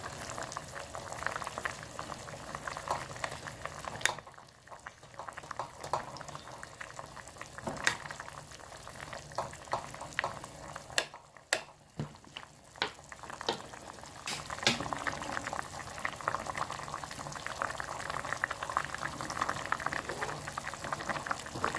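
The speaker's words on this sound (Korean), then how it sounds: "이렇게 조금만 끓여주면 완성입니다" Tuna kimchi stew simmers in an earthenware pot, a steady bubbling boil that carries on nearly unbroken throughout, with a few sharper pops and brief lulls, fairly close and with no voices.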